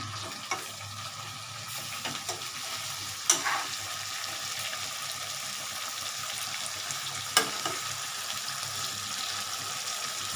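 Tangra fish curry sizzles steadily as it fries in a pan over a gas flame, with a few scraping stirs across the pan and brief louder clinks standing out over the constant crackle.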